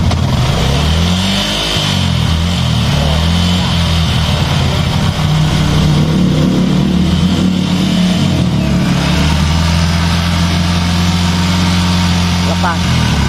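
A Yamaha Jupiter MX motorcycle with a rough-running engine, revved in a run of rising and falling throttle blips over a steady idle throb. The engine is loud and close, and people talk over it.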